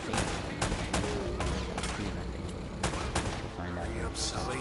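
Gunfire in the game Uncharted: Drake's Fortune, with several sharp shots and short bursts cracking over a dense, rumbling action backdrop and game sounds, loud and close.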